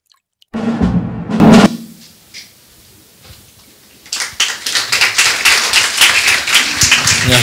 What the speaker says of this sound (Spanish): No, no aplaudáis.